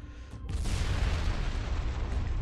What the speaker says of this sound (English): That ship was destroyed very quickly.